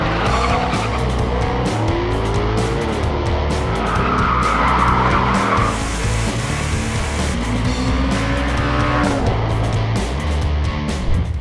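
A 2020 Ford Mustang Shelby GT500 launching in a drag race, its engine roaring loud and close with tire squeal and rising gear pulls over about eleven seconds.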